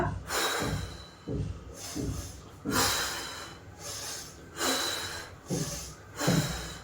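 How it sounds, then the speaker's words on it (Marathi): Slow, deliberate breaths in and out during a belly exercise, heard close to the microphone as about six strong airy strokes spaced roughly a second apart, with no talking over them. "ब्रिथिंग आणि ब्रीद आउट श्वास घेणे श्वास सोडणे"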